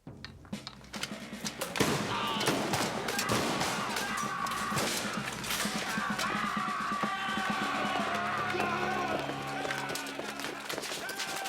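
Dense gunfire and chaotic battle noise from a 1995 period war film, a sustained roar of shots and crashes building after a quiet start and continuing loudly throughout, with shouting voices mixed in.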